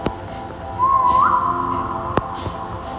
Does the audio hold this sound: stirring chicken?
no